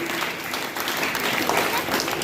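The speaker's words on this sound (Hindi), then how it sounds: "ताली जोरदार बजाओ।" Crowd applause at a village quiz competition held for Gandhi Jayanti, many hands clapping in a continuous, even roar lasting a couple of seconds, fairly loud and close.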